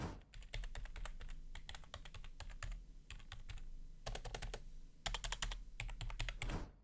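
Typing on a 45-euro mechanical keyboard during a game: rapid clacking keystrokes in dense clusters with brief pauses, close and continuous, heard alone without talk.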